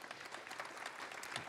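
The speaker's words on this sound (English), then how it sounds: "Give him a round of applause." Audience at a 2018 nuclear-industry panel discussion applauds as a speaker is introduced, a brief, moderately distant burst of scattered clapping from a seated crowd.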